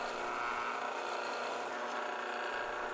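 A steady, high whirring grind of a drill boring into metal, continuous and fairly quiet, with no pauses or talking.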